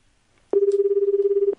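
One loud, close electronic ringback tone of about one second sounds as a phone call is placed, steady and slightly pulsing, with near silence before and after.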